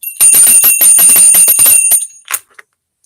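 A bicycle bell rings out clearly in a home during Christmas tree decorating, a rapid run of bright, loud metallic dings lasting about two seconds that fades into a few softer trailing rings.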